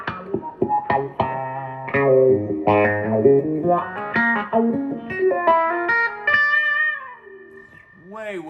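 Electric guitar chords played through a Morley Bad Horsie wah pedal pushed fully up, giving a bright, high-pitched honking tone; several strummed and picked chord phrases ring out with effects, ending in a sliding note.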